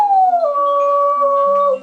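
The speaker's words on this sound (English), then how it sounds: "Take, for example, the evolution of Beagle's distinctive howl." A beagle lets out a single long, loud howl that slides down in pitch and then holds steady before tapering off, close and alone without any talking.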